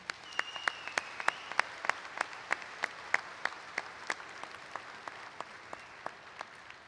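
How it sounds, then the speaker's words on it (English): Graduation audience at a university commencement ceremony gives a thin round of applause, made of distinct, separate claps in a loose, uneven rhythm at moderate distance that thins out toward the end. "Join me in giving everybody a round of applause."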